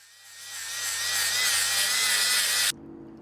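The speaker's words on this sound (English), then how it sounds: "I'm drilling a hole in the shaft" A high, steady drill whine rises and holds for a few seconds while drilling a hole in a metal steering shaft, then cuts off abruptly, leaving a low mechanical hum.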